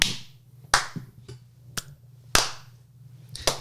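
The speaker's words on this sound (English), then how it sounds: "Clappy claps." Sharp hand claps land one at a time at uneven intervals, several crisp slaps ringing out over a low steady hum with no talking.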